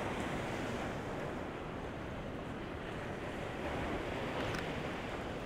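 Surf at a beach during an outdoor bridal photo shoot, a continuous dense roar of breaking waves mixed with wind buffeting the microphone, with no voices.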